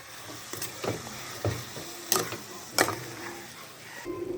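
Food being mixed in a pan over a low sizzle, with several distinct scraping and clinking strokes spaced irregularly, close by and moderately loud, no talking.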